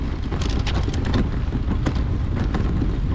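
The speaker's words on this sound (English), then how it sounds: "I apologise for any noise off the wheel itself" Measuring wheel rolling across a car park, a steady gritty rumble with sharp clicks and scrapes throughout, loud and close to the microphone with wind noise.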